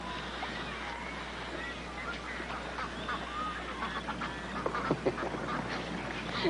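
Duck quacking in a group setting, with short calls scattered over a steady background hum while children and adults talk nearby.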